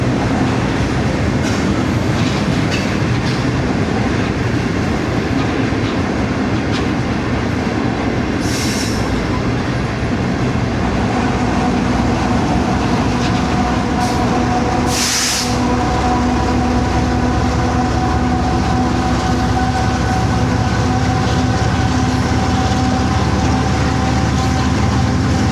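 The Pak Business Express train runs on its tracks near Kot Radha Kishan railway station, a loud, steady rumble of wheels with rhythmic clicking and occasional squeals, continuous for about 25 seconds with no talk.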